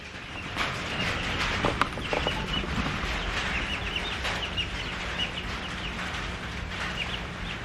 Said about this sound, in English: show you the chickens in here